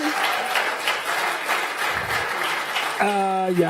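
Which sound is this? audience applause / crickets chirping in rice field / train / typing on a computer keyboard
audience applause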